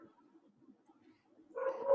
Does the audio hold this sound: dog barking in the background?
yes